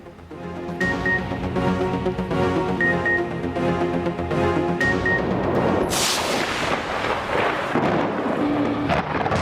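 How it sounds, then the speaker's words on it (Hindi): Rolling thunder rumbles over steady rain in Islamabad, with a sharp loud crack of thunder partway through and rain hissing continuously. "इस्लामाबाद में भी गरज चमक के साथ बारिश।"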